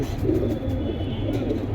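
Pigeons at a pigeon seller's in Bangladesh cooing, a steady, dense murmur of low coos from a flock nearby, continuous and fairly loud with no talking.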